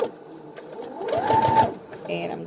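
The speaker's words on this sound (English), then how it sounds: "I'm going to back stitch at that gap." A sewing machine back stitches across a fabric face mask at a turning gap, a short whirring run rising in the middle and then stopping, heard close with a voice speaking around it.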